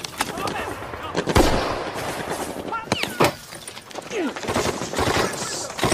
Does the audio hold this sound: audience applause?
no